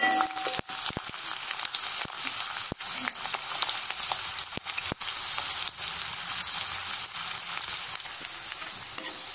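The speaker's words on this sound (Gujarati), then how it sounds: "હવે તેલ આપણું ગરમ થઈ ગયું છે, તો હવે આપણે એમાં મીડિયમ સાઈઝ ડુંગળી એડ કરીશું" Medium-sized onion frying in hot oil for a papdi and brinjal curry, a loud, steady sizzle with sharp intermittent clicks of a utensil stirring in the pan, close up and without talk.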